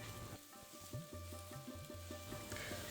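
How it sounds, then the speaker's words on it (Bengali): Potatoes and cucumber with salt and turmeric frying in a pan, giving a steady dense sizzle with some stirring scrapes and a low background hum. "নুন আর হলুদ দিয়ে আলুটাকে আমি একটুখানি ভাজা ভাজা করে নেব"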